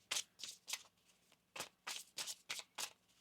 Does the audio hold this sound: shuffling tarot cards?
yes